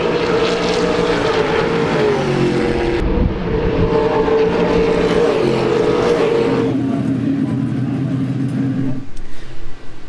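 A TA2 race car laps a circuit at speed, its loud engine howling close by as it rises and falls through gear changes, then dropping to a lower pitch as it passes and pulls away.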